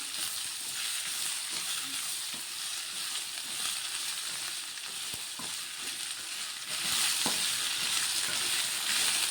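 Capsicum curry sizzles steadily in a hot pan while being stirred, a continuous frying hiss with occasional scrapes and taps of the spoon, growing louder toward the end.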